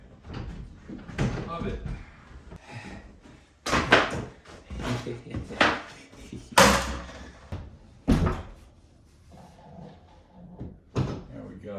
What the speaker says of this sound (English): I have a bedroom door.